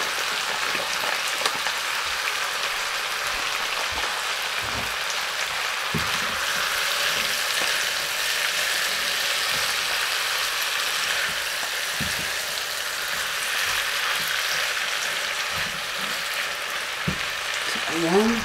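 Pork chop bones and black beans fry in a pan with a steady, close hiss and crackle, broken by occasional soft scrapes and stirring clicks, continuous throughout with no talking.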